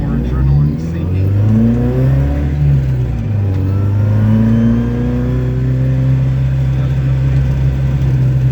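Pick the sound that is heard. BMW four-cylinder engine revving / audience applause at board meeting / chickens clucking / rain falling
BMW four-cylinder engine revving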